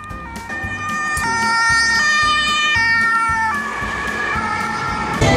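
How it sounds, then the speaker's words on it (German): A wailing two-tone ambulance siren sounds loudly, rising and falling in steady cycles as it passes, over low traffic rumble near an accident and road closure in Magdeburg, Germany. "Und jetzt kommt im hinter uns nochmal ein Krankenwagen."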